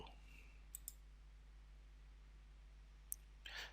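Computer mouse clicks on a preview button in drafting software, a few crisp isolated clicks in pairs, close and quiet over a low electrical hum.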